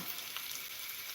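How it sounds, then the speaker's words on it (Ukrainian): Food sizzling steadily in a hot pan, a close, continuous crackling hiss with no voices. "В мене смажиться."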